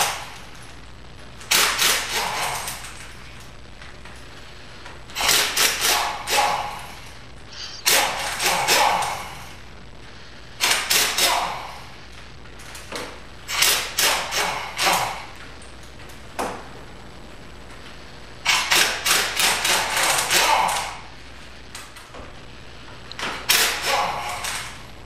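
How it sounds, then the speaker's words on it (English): An impact wrench rattles bolts off a transmission cover on an SRT T850 transmission, firing in several loud, buzzing bursts of a second or two each with short pauses between them, alone and close by. "I am using an impact to get all these bolts out"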